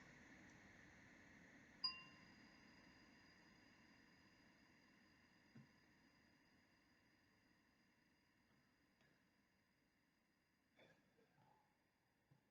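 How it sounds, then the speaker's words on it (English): A single meditation bell strike rings out clearly, its bright tone sustaining and slowly fading over several seconds in an otherwise quiet room. "And I'm going to ring this bell."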